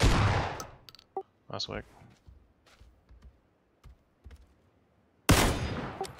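Gunfire in the squad shooter PUBG: a loud burst of shots at the start, then scattered single cracks and a brief voice, before another heavy volley erupts at the end.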